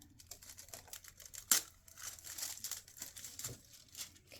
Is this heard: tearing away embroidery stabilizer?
yes